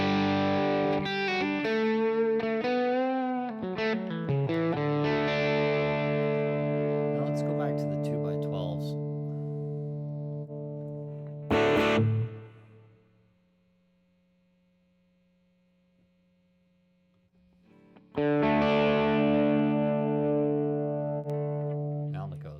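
Electric guitar through a Marshall ST20H tube head and a Marshall Lead 80-watt 4x12 cabinet with Creamback speakers, played as distorted chords and lead runs, then ringing out into near silence before another sustained chord returns.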